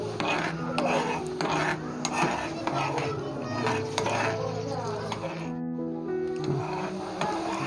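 A spoon scrapes and stirs a chana chaat mixture with ajwain, cumin and chilli flakes in a metal pot, producing repeated close clinks and rasping strokes over a steady cooking hiss.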